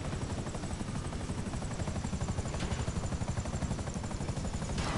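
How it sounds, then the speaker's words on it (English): A helicopter in a video game, its rotor beating in a steady rapid thump with a loud, continuous engine whine, heard close and alone without talk. "I got you a helicopter."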